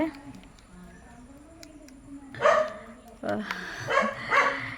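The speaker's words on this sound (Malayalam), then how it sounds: "ഇവിടുത്തെ പട്ടിയുടെ ഒരു വല്ലാത്തൊരു സൗണ്ടാണ്" A dog barks in short bursts, a couple of close barks and then several more, over a quiet indoor background while a face pack is prepared.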